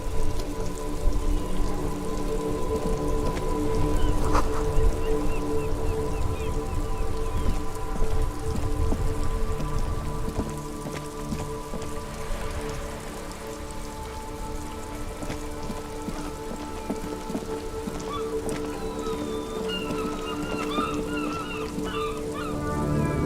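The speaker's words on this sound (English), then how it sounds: "This rain will not let up anytime soon" Steady rain patters on surfaces in the game Disco, a continuous hiss of drops that stays level throughout, with a low sustained drone and faint tones underneath.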